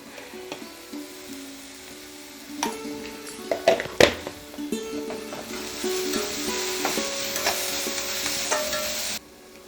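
An onion and turmeric mixture sautés in a pan for jackfruit bonda, with a soft continuous sizzle under scraping stirring strokes and a few sharper knocks of the spoon against the pan.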